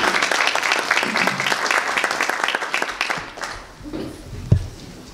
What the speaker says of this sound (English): Can you join me to give a round of applause to the next speaker